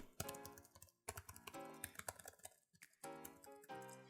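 Typing on the keyboard of an Acer Spin 5 Lite convertible laptop, with firm, tactile, bouncy keys giving a quick run of close, fairly quiet clacks and taps in uneven bursts, separated by short pauses.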